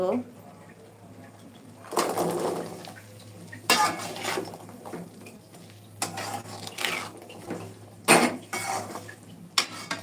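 Garlic cloves tumble into a pan of frying ginger for garlic pickle, giving several clattering, scraping bursts of utensil against metal with quieter stirring between them and a voice talking at times.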